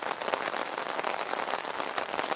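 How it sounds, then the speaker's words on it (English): Steady rain patters on a surface with dense, even drops throughout and no speech. "How can anyone play outside with all this rain?"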